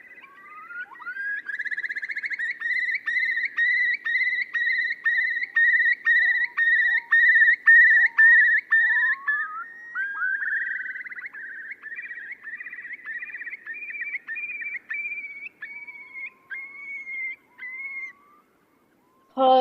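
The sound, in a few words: curlew calling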